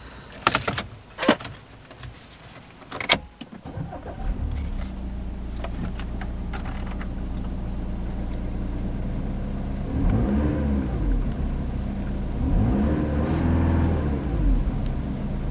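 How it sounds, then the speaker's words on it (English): A few clicks and clunks, then a 2009 Audi A4 S-Line engine catches and settles into a quiet low idle, swelling twice as it revs up briefly. "So let's power on the car and see how it sounds."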